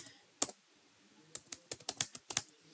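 Typing on a computer keyboard while entering a name into an SQL table, with one isolated keystroke followed by a quick burst of clicky, irregular key taps, close and fairly quiet with no talking.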